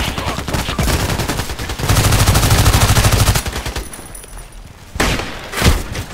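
Video game Contract Wars combat: dense rapid gunfire fills the scene, building to loud continuous bursts, then thinning out before a heavy blast-like boom near the end.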